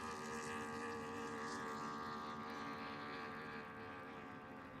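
A 1-liter class racing boat runs on open water at San Diego Bayfair, its engine a steady, distant droning whine that slowly fades, with wind noise and no talking.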